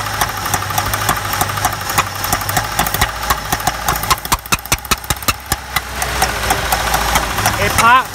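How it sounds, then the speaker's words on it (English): A truck engine runs rough, its idle broken by a string of sharp pops and backfires out the intake, irregular and loud, with a talking voice over it near the end. "It pops and backfires out the intake."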